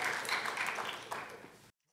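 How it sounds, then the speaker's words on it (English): A lecture-hall audience at a university algorithms class applauds in a brief burst of steady clapping that tapers slightly before cutting off abruptly. "And can we have a round of applause for Angela?"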